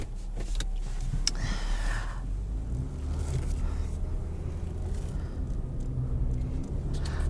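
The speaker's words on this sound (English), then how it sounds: "let's take this 2019 Pathfinder on the road" 2019 Nissan Pathfinder with a V6 and CVT transmission driving on the road, a low steady engine and road rumble heard from inside the cabin, with occasional small clicks and shifts in tone.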